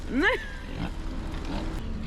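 Pigs on a farm in Corsica give a loud squealing grunt up close, followed by softer, lower grunts and snuffles against steady background noise.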